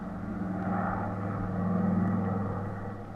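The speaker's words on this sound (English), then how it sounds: "So he chartered a plane, and we took off for Miami." A radio drama sound effect of an airplane taking off: a steady droning engine rumble that builds gently and holds, mid-distance and fairly loud, with no voices.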